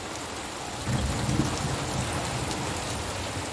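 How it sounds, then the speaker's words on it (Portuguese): Steady rainfall on a rural smallholding, a dense continuous hiss that swells louder partway through and stays heavy, with no voices. "Então a chuva veio dessa direção, está vindo cada vez mais forte."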